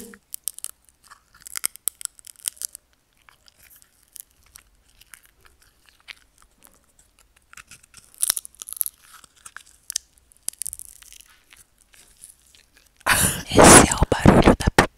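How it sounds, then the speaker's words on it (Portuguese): Popcorn being crunched and chewed close up, with scattered bites and crinkly munching through the first half, then a loud dense burst of crunching near the end. "Esse é o barulho da pipoca."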